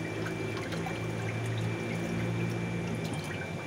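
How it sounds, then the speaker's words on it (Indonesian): Liquid pours and swirls steadily into a home aquarium holding Puntius denisonii fish eggs, a continuous close splashing trickle over a low hum, with no voices. "Kita tuang secukupnya, kemudian kita aduk."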